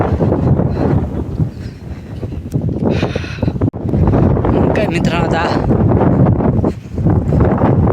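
Strong wind buffets a handheld phone microphone on a hillside walk, a loud continuous roaring rumble with gusty surges, while someone speaks over it.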